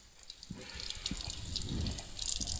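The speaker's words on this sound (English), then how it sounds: "Rinse my hands." Hands are rinsed under a running kitchen tap, with a soft, steady splash of water and faint clinks and drips close by, quiet and without talk.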